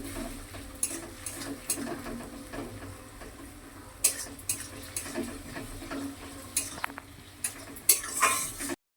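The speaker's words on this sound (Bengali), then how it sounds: "আদা রসুন বাটাটা এটা ভালো করে কষিয়ে নিয়ে" Ginger garlic paste is stir-fried in a pan, with a low steady sizzle broken by repeated scraping and clinks of a spatula against the metal.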